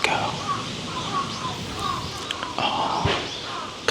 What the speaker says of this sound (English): Look at the crows, they're going crazy. They're like swarming in circles.